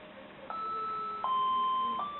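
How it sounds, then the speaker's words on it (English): A vintage 1985 Casio MQ-1200 melody alarm clock sounding its noon Big Ben doorbell-style chime: three clear electronic tones stepping in sequence, close and fairly faint, with no talk. "at 12 o'clock in the afternoon it does like a Big Ben, like a doorbell sort of sound"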